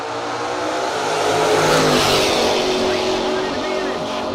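A Camaro drag racing car at a no-box open drag race, its engine roaring loud and steady under a race announcer's voice, swelling slightly mid-clip as it runs.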